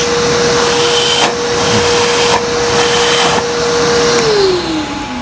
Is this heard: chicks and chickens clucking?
no